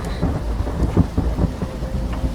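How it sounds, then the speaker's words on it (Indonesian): Thunder and wind rumble over the sea in a storm sound effect, with a dense, loud wash of rain-like noise and low booming rolls that fill the clip without any talking. "Dia menurunkan angin ribut ke laut"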